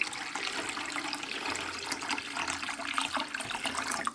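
Water pours from a tipped container into an ultrasonic record cleaner tank already holding water, a continuous splashing trickle heard close up and moderately quiet.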